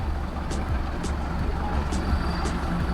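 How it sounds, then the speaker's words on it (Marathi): A Vaibhav Travels bus sits idling at a petrol pump while diesel is pumped in, its low engine rumble steady beneath a few faint high ticks, with voices talking nearby. "ही आपली बस आहे वैभव ट्रॅव्हल्स. डिझेल भरायला चालू आहे."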